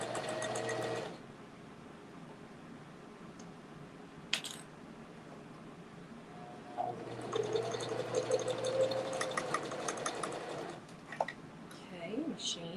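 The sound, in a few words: sewing machine stitching fabric for a hanging basket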